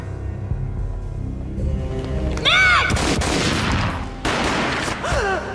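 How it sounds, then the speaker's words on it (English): A gunshot in a Max Payne video game cutscene, a loud boom followed by slowed, echoing effects and a whooshing sweep, set against a dramatic score. "A gunshot boomed and she fell down in slow motion."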